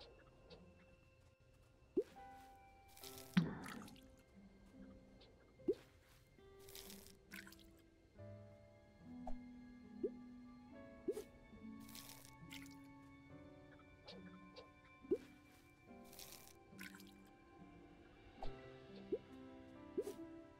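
Water drips and splashes as crops are watered in the farming video game Big Farm Story, soft repeated droplet sounds over light game music, with a few louder splashes and brief quiet talk.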